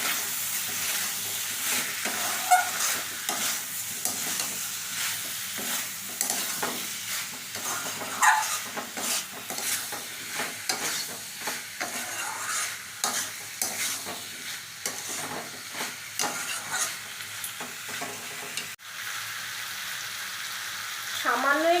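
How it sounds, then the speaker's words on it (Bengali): Chicken mince frying and being stirred in a pan, a continuous close sizzle broken by frequent scraping spatula strokes and clatters, steady and fairly loud throughout. "এবার কষানোর সময় এই চিকেনটা দিয়ে দিচ্ছি।"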